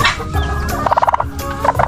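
A brooding turkey hen gobbles in a short, close burst of rapid, rattling calls that pulse in quick succession, loud and alone with no talking over it.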